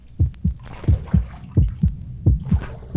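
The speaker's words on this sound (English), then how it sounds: "The closer he got, the louder and stronger the heart beat." Heartbeat sound effect: deep, loud lub-dub thumps in a steady paired rhythm, about six beats across the span, booming and close with nothing else over them.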